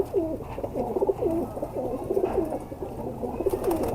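A Firozpuri pigeon coos close by in a steady run of repeated rolling phrases, one after another, over a low background hum.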